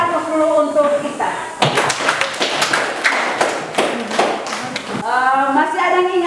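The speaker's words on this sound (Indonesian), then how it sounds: "Kita kasih aplaus dulu untuk kita." A classroom of students claps together in a burst of applause lasting several seconds, with talking heard before and after.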